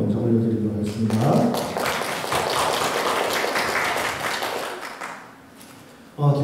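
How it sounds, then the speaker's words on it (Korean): An Easter Sunday church congregation gives sustained applause of praise, steady and full for several seconds before fading. Someone speaks briefly at the start. "부활하신 우리 주님께 영광과 감사의 박수를 먼저 올려드리도록 하겠습니다."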